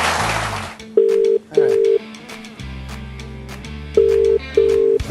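A telephone rings twice on a call placed to footballer Jason Dunstall, the ring bursts clear and loud over a background of music and chatter.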